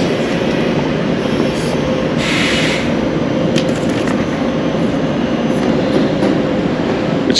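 Interior of an ICE train travelling from Nuremberg to Munich: a loud, constant rumble of wheels and running gear with faint rail squeals and clicks breaking through.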